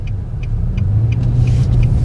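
Car driving around the small-town streets of Talbotton, Georgia, a steady low engine and road rumble heard from inside with a faint rhythmic ticking, no talking.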